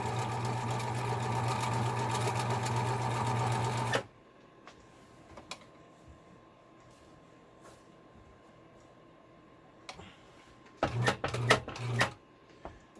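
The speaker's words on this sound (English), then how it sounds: "Now you can see the needle move back and forth as it zigzags." A Viking 120 sewing machine runs a zigzag stitch in a loud, steady mechanical whir for about four seconds, then stops, leaving faint clicks and handling noises before a short burst of machine running near the end.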